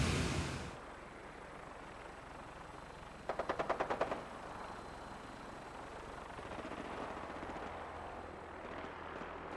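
Enemy gunfire in the video game Fallout 4 comes as a short rapid automatic burst, moderately distant, after an initial loud hit, over a low rumbling ambience with a faint whine.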